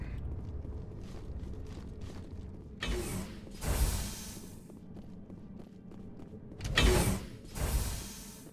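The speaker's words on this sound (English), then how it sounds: "all these damn elevators" A Mass Effect elevator hums and rumbles along steadily, with periodic louder mechanical whooshes and clunks surging twice, no talking.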